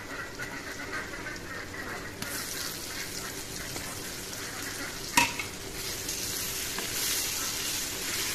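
Fish sizzling and frying in oil in a pan for an Assamese fish curry with sponge gourd, a steady broadband crackle with occasional stirring scrapes and one sharp clatter midway, close and without talk.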